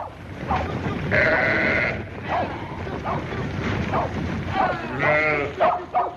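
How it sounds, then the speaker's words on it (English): Sheep bleat repeatedly in a wavering chorus over a busy, noisy background, some calls close and loud, others further off, as they are driven along. "Come on, get them sheep moving."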